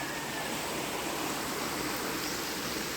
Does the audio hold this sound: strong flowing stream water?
yes